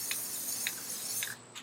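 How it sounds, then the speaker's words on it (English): Rust-Oleum black spray paint hissing from a can onto a brush, three or four short bursts spaced about half a second apart, close and fairly quiet. "we're going to spray some on the brush"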